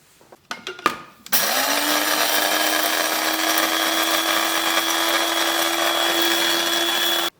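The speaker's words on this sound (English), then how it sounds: "I'm going to now blend those together, or grind those down" An electric grinder runs loud and steady for several seconds, pulverising coriander, cinnamon, flaked sea salt and cardamom seeds, after a few brief knocks at the start.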